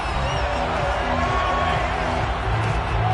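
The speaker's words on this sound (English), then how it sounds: "Plenty of shouts from this crowd as they watch the replay." A stadium crowd in Madden 22 football shouting and roaring in a steady, dense wash of noise, loud and continuous with scattered whoops.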